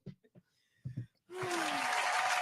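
An audience bursts into clapping on a talk show, a dense, steady wash of applause that starts suddenly after a few short spoken bursts and carries on loudly to the end.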